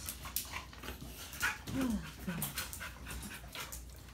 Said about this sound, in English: we got some nice panting dogs.